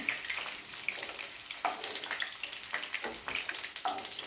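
Okra pieces frying in oil and being stirred, a steady close sizzle broken by repeated scraping and clinking strokes of a spoon against the pan, with no talking.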